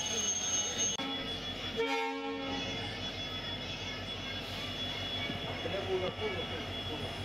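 A Thiruvarur–Karaikudi passenger train rolls on a steady low rumble, with a faint whine and brief clatter midway as it runs through the countryside after leaving a small station.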